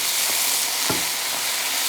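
Tomatoes hitting browned soy mince in a hot pan for a vegan shepherd's pie, giving a constant close sizzle with one brief stirring scrape midway and no voices.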